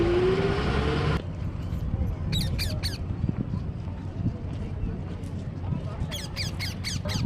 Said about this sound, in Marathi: अशा पद्धतीने आपली गाडी आता पार्किंगला लागत आहे.